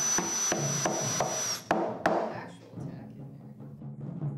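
Steady hammer blows pounding small tacks into a wooden taiko drum body, sharp regular strikes about every third of a second, then scattered lighter taps and workshop rustle.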